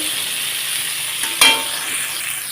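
Steady crackling sizzle of black mustard seeds frying in hot oil, with a brief louder spitting pop partway through.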